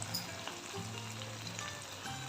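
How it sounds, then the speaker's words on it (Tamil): Poricha kootu, a South Indian lentil and vegetable dish, sizzles and bubbles steadily in a pan while being stirred, a close, continuous frying hiss with soft spoon scrapes and no voices. "நல்லா கலந்து விட்டுருவோம்."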